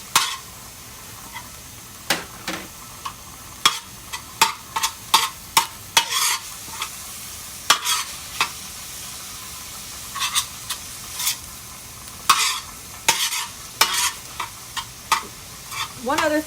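Ground meat for shepherd's pie frying in a pan on a two-burner stove, stirred with repeated sharp scrapes and clacks in an irregular rhythm over a continuous sizzle, close up with no talking.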